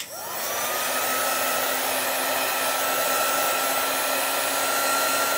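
A hair dryer blows on chalk paste in a craft project, a loud, steady whooshing hum that starts abruptly and runs continuously without change.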